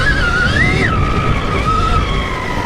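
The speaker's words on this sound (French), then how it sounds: "on entend le pneu qui ne tracte pas justement" A Stark Varg EX electric motorbike spins its tire on wet ground, giving a loud, close, rising and falling electric whine with a wavering pitch over scrabbling tire noise. There is no talking.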